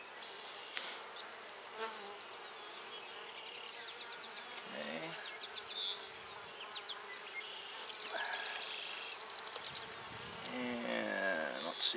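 A dense, steady drone of many honey bees buzzing close by at a hive, with individual insects whining louder as they pass near.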